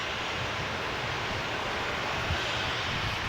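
Steady roar of an aircraft engine at Melbourne Airport, a broad continuous rumble with no clear change in level, heard from a distance with no talking.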